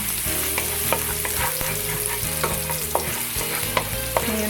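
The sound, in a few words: stirring garlic frying in pan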